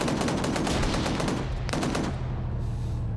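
A video game gun turret fires a rapid, continuous stream of loud automatic shots, dense and relentless, then briefly breaks off near the end, with no talking over it.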